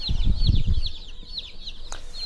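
Turkeys on a farm call in a quick series of high, repeated yelps near a water source, with low thumps and rustling beneath, and a brief sharp click near the end.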